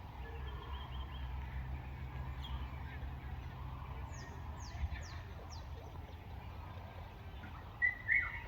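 Small birds chirp in a quiet village morning, with a few brief, faint calls scattered over a low, steady background rumble.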